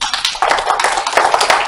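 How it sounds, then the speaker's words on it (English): Big round of applause from an audience at a talk on the Las Vegas Mission of 1855–1857, dense clapping filling the room continuously and loudly throughout. "we ought to give a big round of applause"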